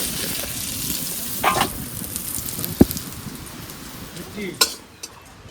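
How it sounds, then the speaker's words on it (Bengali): A bay leaf and a dried chilli sizzle in hot oil as tempering for a Bengali vegetable dish, a soft continuous frying hiss with occasional utensil clinks and someone talking over it. "চচ্চড়ি বসানোর জন্য ফোড়নে একটা তেজপাতা একটা শুকনো লঙ্কা মাঝখানে চেড়ে নিয়েছি"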